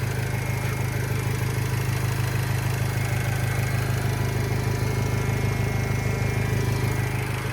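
The 2.0-litre diesel engine of a 2010 Renault Trafic van idles steadily nearby, a low continuous rumble with a fast mechanical clatter and no change in pace.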